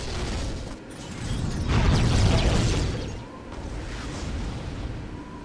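An artillery gun fires in the Dawn of War video game: a broad, rumbling blast that swells and then fades, set against a steady mechanical drone.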